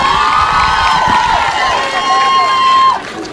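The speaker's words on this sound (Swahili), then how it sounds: "Makofi kwa baba." A crowd at an outdoor political rally in Kibra, Nairobi, cheers and roars loudly and steadily, with shrill whistle-like cries rising above the broad wash of voices throughout.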